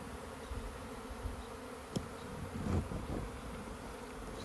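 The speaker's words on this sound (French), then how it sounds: "Il y a des abeilles partout." Bees buzz faintly around the entrance of a foundationless beehive outdoors, a soft, steady hum with occasional brief closer passes.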